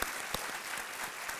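Studio audience applause on the quiz show Kaun Banega Crorepati, a brief burst of steady clapping from the crowd, moderately loud and uniform without any talk.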